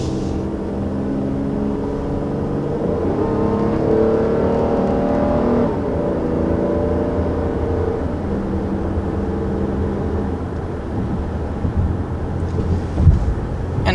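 A 2020 Toyota Highlander Platinum accelerating up to speed, its engine note rising steadily beneath a constant road and tyre rumble, heard from inside the cabin with no talking.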